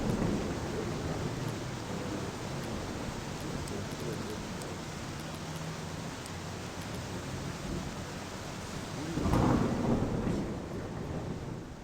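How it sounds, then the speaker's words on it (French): Thunderstorm in the video game Cafemart Simulator: a steady wash of rain with low rumbling and a louder thunder roll near the end, faint and under a murmuring voice. "c'est l'orage"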